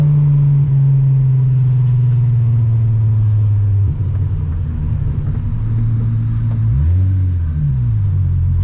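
A six-cylinder Volkswagen Golf engine rumbles steadily and close, its low drone sagging in pitch partway through, then swelling and easing off again as the car accelerates.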